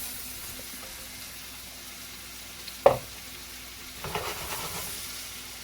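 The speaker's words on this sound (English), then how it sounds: "we're going to throw the peppers in and the onions" Peppers and onions hitting a hot pan and starting to cook, a faint steady sizzle with one sharp clack and a brief burst of louder frying and stirring toward the end, no talk.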